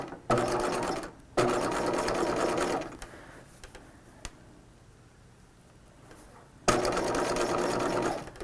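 A sewing machine back-stitches the seam of a 1950s-style shelf bust dress, running in loud, close bursts of rapid whirring and stopping for a few seconds between runs.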